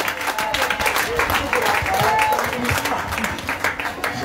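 Crowd clapping and cheering at an evangelism meeting in the village of Maféré near Aboisso, a steady dense burst of applause lasting several seconds with voices mixed in.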